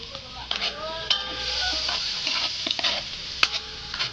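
Food sautéing in a pan, with a soft steady sizzle, scattered utensil clicks and taps against the pan, and occasional sharper knocks.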